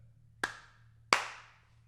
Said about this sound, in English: Oh, 2 claps